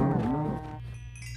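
A cow in the video game Minecraft gives a single loud, drawn-out low moo that dips in pitch and tails off, heard alone and close.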